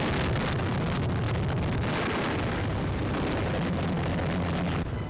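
Anti-aircraft fire during a British warplane attack on a ship squadron heading into the Oslo fjord, heard as a dense, continuous roar of rumbling bursts and crackle, loud and sustained.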